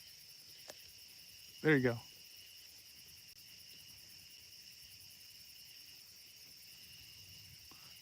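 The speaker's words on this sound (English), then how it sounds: "You got the peepers going." Spring peepers chirp at night in a steady high-pitched chorus. The sound is faint and continuous, with a short spoken remark briefly over it.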